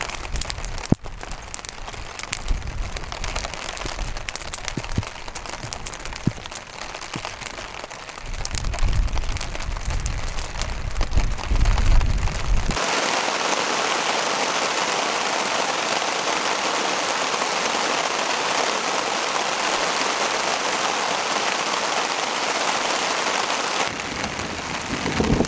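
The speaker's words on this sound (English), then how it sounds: "Rainy days" Steady heavy rain hisses loudly and evenly through a stormy spell of high winds under dark clouds in the Labrador barrenlands, after a rougher, gustier stretch of noise at the start.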